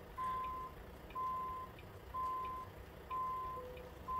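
Truck reversing alarm in the American Truck Simulator game sounds as four evenly spaced single electronic beeps, each about half a second long, over a low engine rumble.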